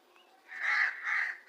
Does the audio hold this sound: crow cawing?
yes